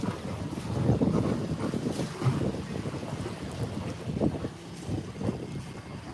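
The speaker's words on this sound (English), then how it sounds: "It's very windy here, Mark." Gusty wind buffets the microphone at the Potter Heigham riverside, a loud, uneven low rumble that swells and eases throughout with no one talking.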